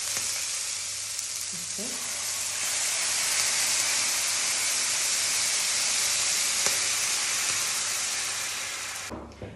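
Hot stock poured into a paella pan for black paella with squid, setting off loud, steady sizzling and hissing that swells and then cuts off abruptly at the end, with a brief spoken word over it.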